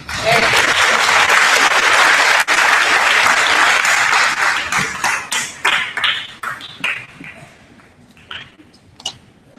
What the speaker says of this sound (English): A big round of applause for her.